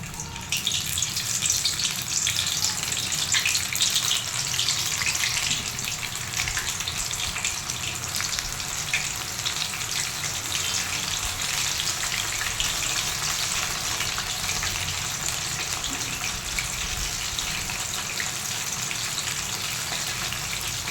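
Mushroom pakodas deep frying in hot oil, a loud, dense and continuous bubbling hiss that holds steady from start to finish.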